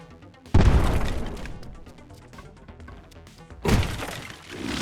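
Bombs exploding in the game Eastward: two loud, crunchy blasts a few seconds apart, each with a sudden hit and a rumbling, crackling tail, with no talk over them.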